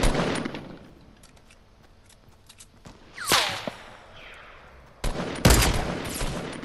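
Sharp gunshots from a sniper rifle in a video game, a loud crack near the start, another mid-clip with a ringing tail, and a burst of several loud shots toward the end, with quieter scattered clicks between.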